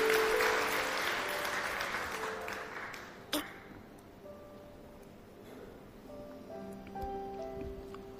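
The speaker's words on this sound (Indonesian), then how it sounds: "Kita beri tepuk tangan untuk kebenaran ini." Church congregation applause during an Indonesian sermon, loudest at the start and fading to a quieter, sparse patter over the following seconds.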